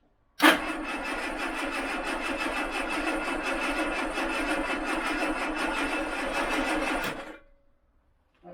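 Austin Allegro car engine turning over on the starter, a loud, steady mechanical churn lasting about seven seconds before cutting off abruptly, with no voices.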